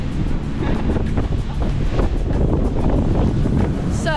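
Strong wind buffets the microphone on the top deck of a boat crossing open sea from Bali to Gili Trawangan, with a dense, continuous roar of wind and waves throughout and no talk.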